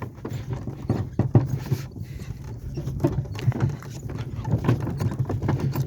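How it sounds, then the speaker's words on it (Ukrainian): Heavy draft horses' hooves clip-clopping steadily in a walking rhythm, close by, with a low rumble underneath throughout. "От показав, як коні йдуть"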